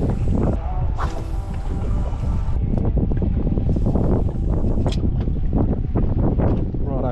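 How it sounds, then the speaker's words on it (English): Strong wind blows over shallow coastal water while fishing, buffeting the microphone with loud continuous gusty roar and rumble, rising and falling in bursts throughout. "I just had a little break from filming because it's windy as shit."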